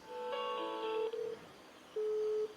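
A phone call connecting tone on a mobile handset: a steady multi-tone chord, a short lower beep, a pause, then another sustained beep before a click, heard alone.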